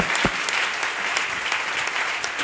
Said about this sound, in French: Alors bao acclamons aussi le Seigneur Jésus-Christ.